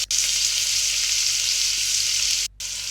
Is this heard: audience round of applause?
no